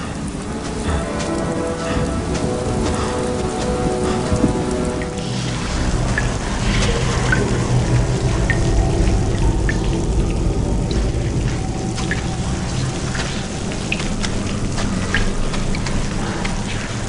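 Heavy rain falling, a dense steady hiss of drops pattering on surfaces, loud and unbroken throughout with scattered sharper splashes and no talk.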